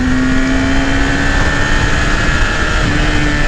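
A 2018 Yamaha YZF R6 sport motorcycle engine runs loud and close, a steady high-pitched drone holding at near-constant speed throughout, with no speech over it.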